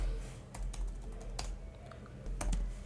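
Password typed on a computer keyboard, a quiet run of scattered key taps with a few sharper clicks over a low hum, no speech.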